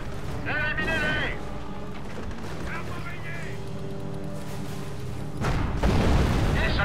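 Booming tank shell blasts and rumbling explosions from the game Company of Heroes: Tales of Valor, one near the start and a heavier one near the end, with voices talking over the din.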